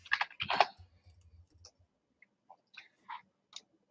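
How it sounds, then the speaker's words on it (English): Mouse clicks on computer links: a quick cluster of sharp clicks at first, then a few sparse, isolated clicks spaced apart, close and fairly quiet with no talking. "Oh man, I'm clicking on the wrong links"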